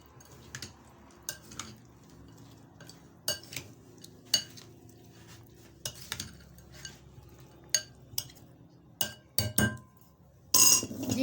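Chana chaat with potatoes gets mixed in a bowl, a spoon clinking and knocking against the dish in irregular sharp taps over a quiet background, with a louder clatter near the end.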